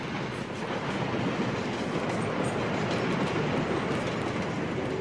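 A night local train at a snowy rural station makes a steady dense rumble of rolling wheels and carriage noise, constant and fairly close throughout, with no voices.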